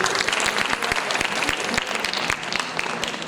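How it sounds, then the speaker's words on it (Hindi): An audience applauds at an awards and honour ceremony, giving a steady, dense burst of clapping from many hands that holds at a fairly loud level throughout, with no talking over it. "एक बार इस मंच के लिए तालियों के साथ अभिनंदन।"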